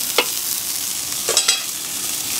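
Turkey breast sizzles steadily on a Weber Q 2400 electric grill, a close, continuous hiss broken by a few brief crackles and pops as the meat is flipped.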